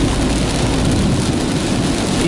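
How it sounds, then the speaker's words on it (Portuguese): Steady rain falls in Cajueiro, Alagoas, as a dense, even hiss of drops on surfaces that continues unbroken, moderately loud, with no one talking. "E agora tá chovendo."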